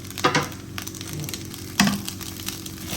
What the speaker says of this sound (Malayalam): എന്നിട്ട് ജസ്റ്റ് ഇളക്കി കൊടുക്കുക.